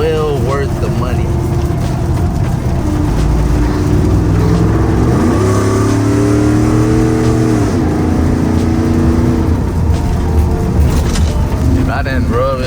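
A lifted, tuned Ford F150 with a 5.0 V8 on an E85 tune pulls hard. The loud exhaust drone rises and falls through several rising sweeps, continuous and close throughout.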